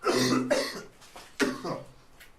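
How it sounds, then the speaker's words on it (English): Two harsh, raspy coughs close by, each a strong burst that trails off into breathy rasping. "He's coughing again."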